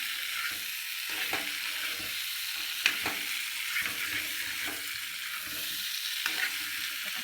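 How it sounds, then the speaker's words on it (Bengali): Meat frying and being stirred in a pan, a constant bright sizzle with periodic scrapes and knocks of a spatula against the pan, close and steady. "মাংসটা ভালো করে কষিয়ে নেবো"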